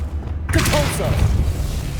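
A Depulso spell cast in the game Hogwarts Legacy: a sudden whooshing boom bursts in after a half-second of low rumble, then rings and decays with some vocal sounds mixed in.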